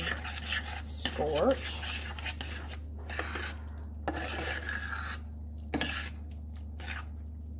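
A utensil scrapes and stirs chicken Alfredo around a pan in repeated rasping strokes, close and moderately loud, with a brief spoken word near the end.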